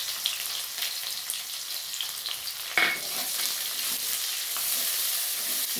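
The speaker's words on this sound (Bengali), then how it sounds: "এবার আমি দিয়ে দিচ্ছি বড় সাইজের একটা পেঁয়াজ কুচি" Chopped large onion hits hot mustard oil already fragrant with fried panch phoron, bursting into a loud sizzle that settles into a steady close hiss as the pan is stirred, with no talking.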